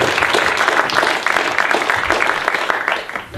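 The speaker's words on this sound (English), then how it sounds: "let's give a big round of applause for door number 3" An audience at an improv show gives a round of applause, a dense, steady wash of clapping that stays loud throughout and eases off slightly at the very end.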